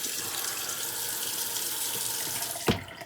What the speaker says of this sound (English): One final rinse.